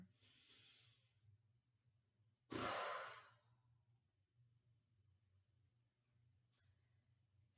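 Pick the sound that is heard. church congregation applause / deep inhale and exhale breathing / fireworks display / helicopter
deep inhale and exhale breathing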